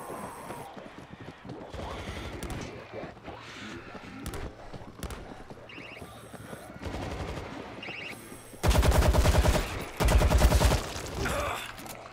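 Turret machine gun firing in the zombie shooter World War Z, set in Moscow: rapid bursts of loud automatic fire, intermittent at first and then long sustained volleys, with scattered game sounds between.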